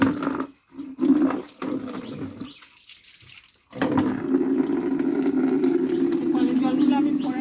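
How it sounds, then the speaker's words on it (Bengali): Tap water pouring into a bucket, a steady running gush that becomes loud and continuous after a brief interruption, with a voice speaking over it at the start. "দেখতে পাচ্ছ কলে জল চলে এসছে, বালতি বসানো আছে, ভরে গেছে"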